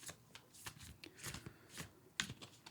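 Tarot cards being shuffled by hand, a run of soft papery riffles and flicks with a sharper snap near the end, close and fairly quiet with no talk.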